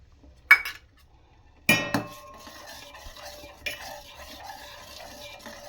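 A spoon stirs a jaggery and milk mixture in a pot on a low flame, a few sharp metallic clinks and scrapes against the rim separated by quiet gaps and a faint simmer.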